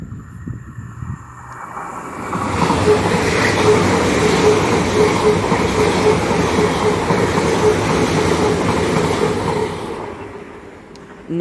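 A nine-coach passenger train bound for Paignton passes through Starcross station. Its rumble swells quickly into a loud, steady roar of wheels and rattling carriages, then fades away after several seconds.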